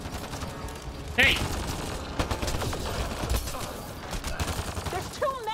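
Gunfire in Mass Effect Andromeda, rapid sci-fi weapon bursts and crackling shots through a chaotic firefight, mixed with voices and other battle noise.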